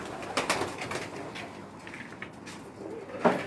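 A pigeon coos softly nearby, a brief low call near the end amid faint rustling and handling noises in a quiet indoor setting.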